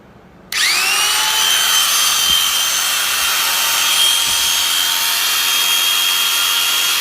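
A heavy-duty animal hair clipper with a copper motor switches on and runs with a loud, steady, high-pitched whine and buzz, close by, with no talk.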